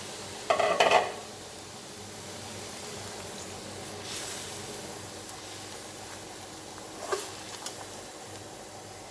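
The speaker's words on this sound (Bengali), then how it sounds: "মাছটি রান্না করতেছি" Bele fish cooks in a pan with a faint, low simmering sizzle, broken by a brief clatter of utensil against pan at the start and another small knock later, close and quiet.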